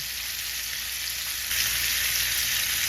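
Beef short ribs sizzling in sesame oil in a non-stick pan, a steady close hiss of frying that swells slightly louder halfway through, with no talking.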